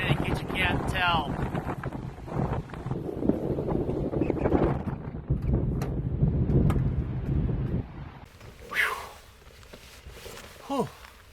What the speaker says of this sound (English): windy today, in case you can't tell.